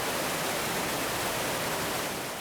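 Thunderous rushing river water in a hidden Oregon gorge, a dense, steady broadband roar that stays loud and close with no pauses, fading only slightly at the end.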